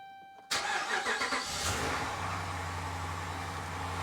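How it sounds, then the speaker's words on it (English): A RAM 1500 pickup engine cranks and catches after a short silence, then settles into a steady, loud idle that runs to the end. "So I'm gonna start the truck to get it flowing through"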